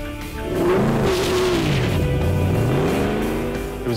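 A Ford Mustang GT500 on a road test roars loudly close by, its engine pitch falling and then climbing again through gear changes as it accelerates hard.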